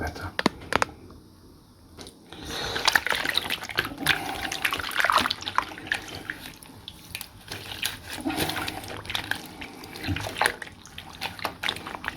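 Water from a tap runs and splashes while a vintage 1990s mermaid doll is washed, a soft uneven trickling and splashing close by, with a person talking over it in places.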